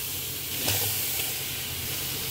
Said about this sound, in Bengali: এবার আমি একটা কড়াই গরম বসিয়েছি, কড়াইয়ের মধ্যে আমগুলো দিয়ে দিলাম।